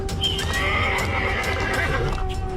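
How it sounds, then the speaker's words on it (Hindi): A horse gives a loud, drawn-out whinny close by, the neigh rising and wavering over a steady bed of clip-clopping hooves and ambient noise. "2 डाकू एक ही घोड़े पर बैठे थे तथा एक डाकू"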